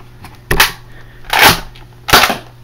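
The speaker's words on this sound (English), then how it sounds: "that is my firing demo" Nerf Recon MK 2 toy blaster fired three times, each a sharp, loud snapping shot spaced about a second apart, close up with no talk.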